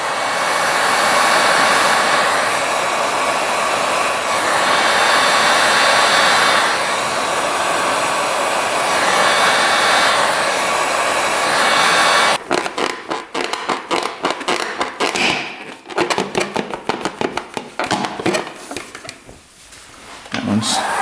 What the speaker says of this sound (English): you want to take a heat gun and warm those up a bit